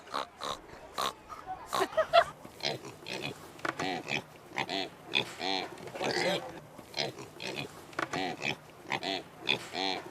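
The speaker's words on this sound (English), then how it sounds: "Because I liked the pigs. Oink, oink." Pigs at the San Diego County Fair grunt and oink in a steady run of snorts, close and loud, mixed with the chatter of people nearby.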